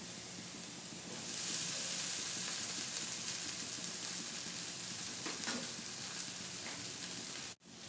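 Beans, carrots and flattened rice (aval) sizzle steadily in a hot pan while being stirred for upma, a continuous frying hiss with faint scraping, fairly close, broken by a brief dropout near the end.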